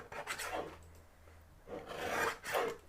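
A paper birthday card edge being trimmed, giving two bursts of close, dry rasping strokes separated by a brief quiet pause.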